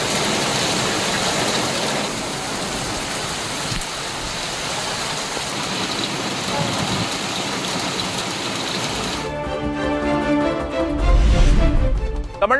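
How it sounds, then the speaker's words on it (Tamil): Heavy rain pours steadily over Virudhachalam in Cuddalore district, a dense, continuous wash of falling water and runoff that stays loud, then shifts near the end to a rougher, closer rumble with low engine-like noise. "கடலூர் மாவட்டம் விருத்தாச்சலம் சுற்றுவட்டார பகுதிகளில் 1 மணி நேரமாக வெளுத்து வாங்கிய கனமழை."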